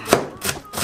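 A knife minces Cheongyang chili peppers on a cutting board, three sharp, close chopping knocks spaced evenly.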